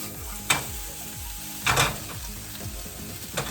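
Green beans and mushrooms sauté in a hot pan with a steady sizzle, broken by three bursts of tossing, scraping and clattering that rise over the frying, with no voice present.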